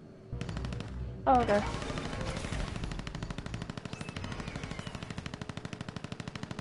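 Rapid automatic gunfire from the AirMech video game rattles steadily through most of the stretch, a dense, loud stream of shots with a brief burst of sharper blasts early on, and a voice speaks briefly over it.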